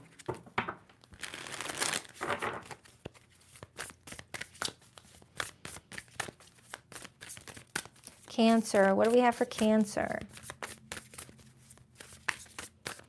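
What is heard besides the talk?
shuffling tarot cards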